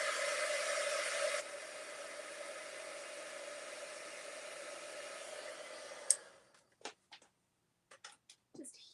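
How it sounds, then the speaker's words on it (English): A heat gun blows over chalk ink with a steady loud whooshing hiss that drops in pitch, runs for about six seconds and then cuts off, followed by a few soft clicks and taps. "Just hit it with my heat gun for a moment."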